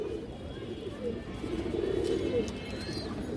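Large full-shaped domestic pigeons coo in low, throaty, repeated calls, close and steady over a background murmur.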